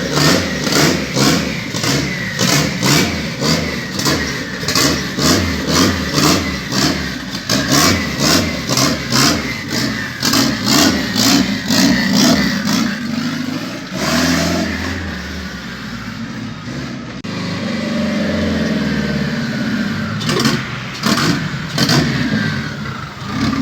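A K-swapped car on its first test drive in four years revs hard and repeatedly, loud and close, with pulsing throttle blips, a calmer idle stretch midway, then more revving toward the end.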